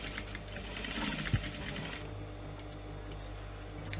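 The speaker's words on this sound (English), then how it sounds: "so I'm going to do this with sewing machine" A sewing machine stitches a purse strap, giving a quiet steady mechanical whirr for the first couple of seconds, then settling into a fainter hum with a small knock.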